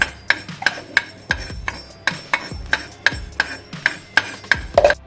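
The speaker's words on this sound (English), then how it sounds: "Now the mustard has started to splutter." Mustard seeds pop and splutter in hot oil on the stove for a mango pickle, a string of sharp, regular crackling bursts close up against a faint sizzling background.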